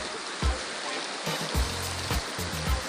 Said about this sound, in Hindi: कितनी तेज बारिश आ रही है।